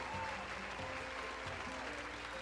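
A canned round-of-applause sound effect triggered from a button during a live-streamed D&D homebrew show, a steady, fairly quiet crowd clapping loop with a faint voice underneath.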